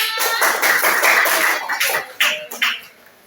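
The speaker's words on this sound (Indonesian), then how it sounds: "Tepuk tangannya mana?" A short burst of applause from a classroom group, loud and steady at first, then thinning into a few scattered claps that fade out.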